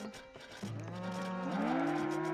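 Cattle mooing in the TZAR: The Burden of the Crown strategy game, one long drawn-out low moo rising and holding steady, with a second call overlapping near the end, clear and close with no talk.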